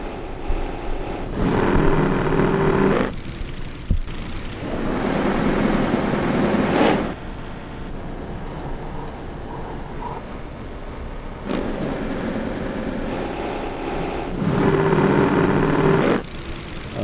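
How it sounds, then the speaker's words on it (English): A grainy, processed engine roar swells and fades in choppy bursts, like a motorbike passing broken into stuttering fragments. "here I'm taking the sound of a motorbike as it went past me"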